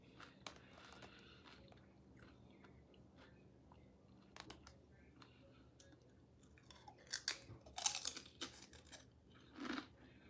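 Someone eats a snack during a painting break. Quiet crunches and chewing come close up, with scattered small clicks and a louder burst of crunching near the end.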